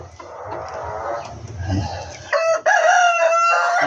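A small Serama rooster crows loudly and close in the second half, after a stretch of low rustling and faint background noise.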